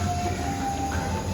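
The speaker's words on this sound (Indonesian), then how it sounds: "kereta api Tawang Alun ini akan datang dari arah timur, dari arah Ketapang Banyuwangi, yang nanti akan masuk di jalur 2 stasiun Jember" The Tawang Alun passenger train arrives at Jember station, a low continuous rail rumble with a faint sustained tonal squeal, heard from a moderate distance with no voices.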